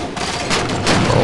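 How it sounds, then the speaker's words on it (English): Grenade blast in the video game Halo 4 amid a chaotic multiplayer firefight, a dense burst of explosive noise layered over continuous gunfire, loud and close throughout. "Throw a grenade."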